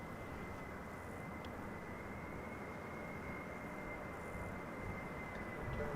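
An airplane at Amsterdam Schiphol Airport gives off a steady, broad engine roar on a sunny summer day, with a thin sustained whine over it and no talking.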